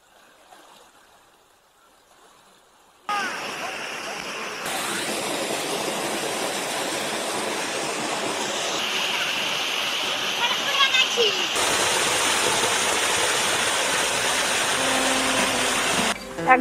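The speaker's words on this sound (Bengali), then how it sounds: "জঙ্গলের বুক চিরে অবিশ্রান্ত গতিতে ঝর্ণার জল এগিয়ে চলেছে।" Jhinkra waterfall stream in Odisha forest near Bolani mines, water rushing continuously after a quiet opening, steady close splashing flow that swells louder partway through.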